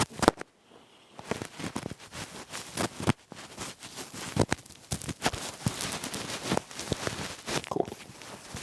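Wind filter muffler being pushed and slapped onto a DJI wireless lavalier mic, giving a run of close, loud rustling thumps and crackly handling knocks that continue irregularly throughout.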